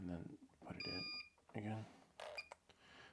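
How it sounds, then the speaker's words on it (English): A Pavo Pico device with a firmware glitch gives off short, high electronic beeps when plugged back in. Someone talks in between the close, clear tones. "That sound is so annoying when it starts beeping."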